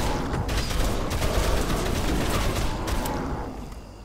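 Guns fire at a zombie in Dead Island: Riptide, producing a dense, continuous rattle of shots that stays loud for several seconds and then tapers slightly, with no talking over it.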